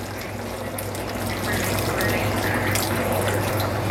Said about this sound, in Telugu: నేను 1 గ్లాస్ నీళ్ళు వేసాను.